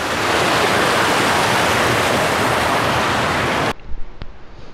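Kobansky waterfall in Ossetia roars as loud, close, continuous rushing water, then cuts off abruptly near the end, leaving quiet background.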